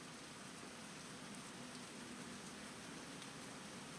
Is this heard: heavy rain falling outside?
yes